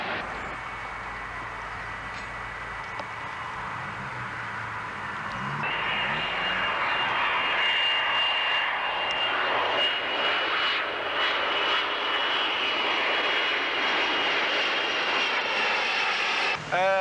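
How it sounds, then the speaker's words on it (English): A British Caledonian Airways BAC One-Eleven jet on a domestic flight near Manchester Airport roars overhead. The engine noise swells after a few seconds into a loud, sustained whine, with faint voices beneath it. "that aircraft that just flying was a British Caledonian Airways 111 on a domestic flight"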